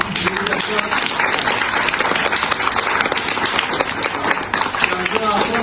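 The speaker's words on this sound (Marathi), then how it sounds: "मॅडमांसाठी एकदा भरपूर टाळ्या वाजवा" A crowd claps loudly and continuously in sustained applause at a school admission celebration at a Marathi municipal school in Solapur, dense and close throughout.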